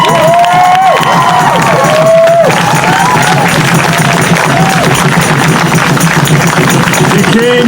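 Crowd at an outdoor rally against ICE in Morgan Hill, California, cheering, whooping and clapping loudly and continuously, with shouted voices rising over the sustained roar.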